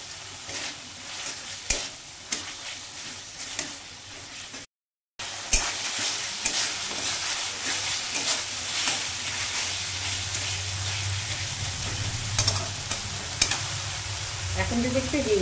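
Spice masala sizzles and fries steadily in oil as tomato goes in for a chhanar dhokar dalna, with stirring scrapes and a brief break, the frying loud and close throughout.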